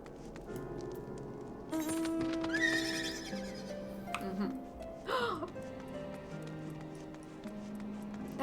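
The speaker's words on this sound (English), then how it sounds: "That was a golden horse." A golden horse in Final Fantasy XIV gives a loud, clear whinny with the clip-clop of hooves, set against game music, and a second neigh follows a few seconds later.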